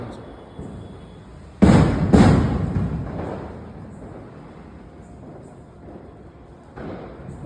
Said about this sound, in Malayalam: ഇവിടെ ആണെങ്കിൽ റോഡിന് നടുക്കും വണ്ടിയിലൊക്കെ വെച്ചിട്ടാണ് പടക്കം പൊട്ടിക്കുന്നത്.